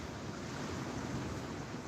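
Night-time ocean waves roll beside a small beach pier, producing a continuous hissing surf wash at moderate level with no speech.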